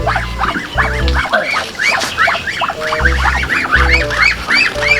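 Loud, repeated honking quacks from a flock of waterfowl, overlapping in a busy rhythm, with low thumping noises underneath.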